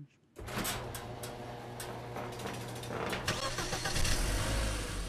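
A big block Ford engine cranks and then runs inside a garage, a loud, steady low rumble that grows slightly toward the end.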